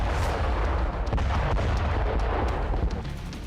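A large explosion in a deserted area of Ukraine, a heavy low rumble with crackling bursts that roll on for several seconds and then slowly fade.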